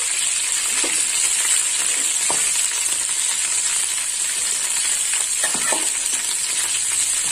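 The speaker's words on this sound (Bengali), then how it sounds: "তো ফোড়নে নিয়েছি শুকনো লঙ্কা, কালো জিরে," Dried red chillies and nigella seeds sizzle in hot oil as a whole-spice tempering, a steady loud frying hiss with small crackles and pops and no voices.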